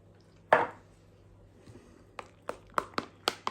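A mixture being stirred in a Ninja Creami pint container: one soft thump, then a run of light, quick taps and clinks of the utensil against the container, close up and quiet, with no voices.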